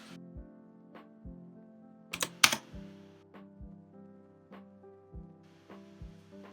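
Keys tap on a computer keyboard as an email address and password are typed in: soft, close clicks at an uneven pace, with a brief flurry of faster, louder strokes in the middle.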